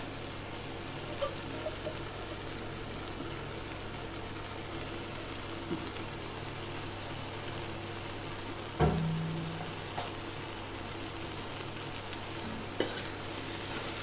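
Boiled macaroni being stirred in a cooking pan, a soft steady scraping and faint sizzle with a few light clinks of the spoon against the pan, close and quiet.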